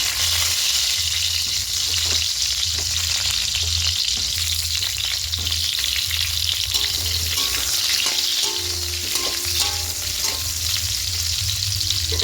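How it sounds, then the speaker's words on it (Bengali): Potatoes frying in oil in a kadai, a steady close sizzle with faint stirring clicks and no talk. "তেলের মধ্যে এখানে আলুগুলোকে দিয়ে দেবো। আলুগুলো দিয়ে একটু হালকা করে ভেজে নেব।"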